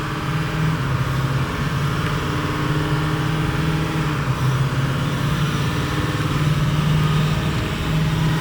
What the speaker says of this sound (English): you can hear that exhaust leak a little bit